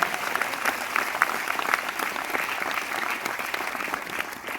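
Steady, enthusiastic applause from a seated audience fills the room at a leadership development business program in Delhi, continuous and fairly loud from start to finish with no clear talking.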